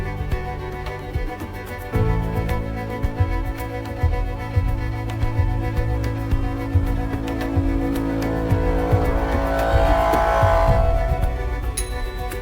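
A car pulls away after a single shot that killed a greyhound; a low engine rumble rises steadily and builds toward the end, with no voices.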